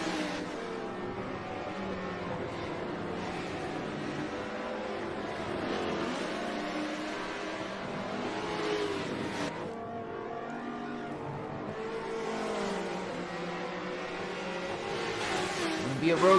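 Blancpain GT America race cars lap the Maple Valley road course, a continuous layered engine drone with rising and falling revs, heard under a commentator's voice.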